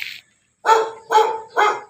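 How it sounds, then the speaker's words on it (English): A dog barks three times in quick succession, loud and close, the evenly spaced barks preceded by a brief sharp sound and otherwise alone. "Sorry about the dog"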